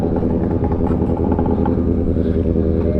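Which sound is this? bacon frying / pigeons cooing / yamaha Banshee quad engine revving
yamaha Banshee quad engine revving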